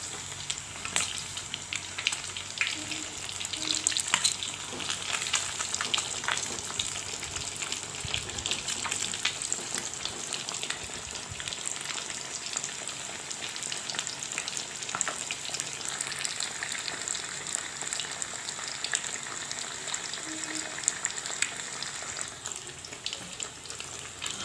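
Fish frying in oil in a home kitchen, a steady close crackling sizzle running throughout with faint clinks of stirring or turning and no talking.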